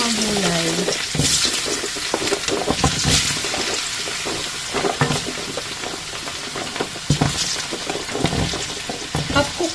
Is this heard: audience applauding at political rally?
no